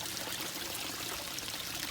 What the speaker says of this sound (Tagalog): Yan yung fountain yan.